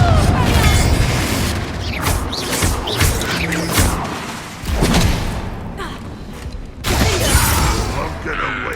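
In the Hogwarts Legacy video game, Confringo fire spells burst in repeated booming blasts with crackling impacts and thuds, mixed with battle noise and brief bits of character voices.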